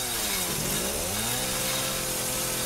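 Chainsaw revving in the survival horror game Resident Evil 7, a continuous buzzing engine drone with a pitch dip and rise near the start, loud and steady with no talk.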